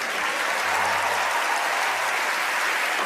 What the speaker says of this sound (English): Give Allison a round of applause